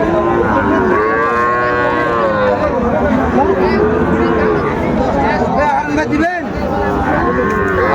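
Bulls and cattle at a livestock market in Chapainawabganj low and moo loudly and repeatedly, close by. Their calls overlap with people talking and bargaining in the crowd.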